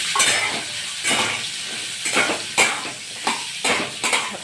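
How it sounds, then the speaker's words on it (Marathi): Guava pieces sautéing in oil with cumin and mustard seeds: a close, steady sizzle interrupted by repeated scraping strokes of a spatula against the pan, about one every half second. "फोडी आपण थोड्या 2 मिनिटं परतून घेऊया तेलावरती"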